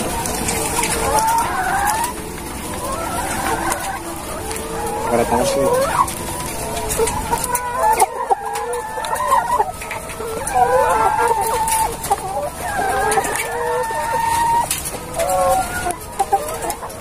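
Laying hens cluck and squawk steadily in a poultry house, a busy, close chorus of calls that goes on throughout, with people talking over it.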